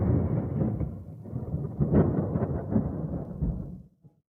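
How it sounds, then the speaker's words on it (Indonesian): A thunderstorm outside, heard as a deep rolling thunder rumble with rain hiss that swells and then cuts off abruptly near the end, loud and close with no voices over it. "Ada badai di luar."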